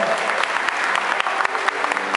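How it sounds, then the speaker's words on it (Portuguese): A crowd claps at a ballet performance by an association's dance school, brisk and continuous, with individual hand claps standing out close by. "Uma salva de palmas."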